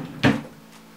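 A drawer in a beauty room knocks shut while makeup such as MAC eyeshadows is being put away, a single short wooden thud close by in an otherwise quiet room.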